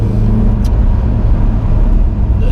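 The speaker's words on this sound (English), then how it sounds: "it's all intake noise that you're hearing inside this car, all air rushing into that naturally aspirated engine" Twingo RenaultSport 133 with a naturally aspirated 1.6 litre engine and stock exhaust, heard from inside the cabin: a loud, steady droning intake rumble with air rushing in, continuous and unbroken throughout.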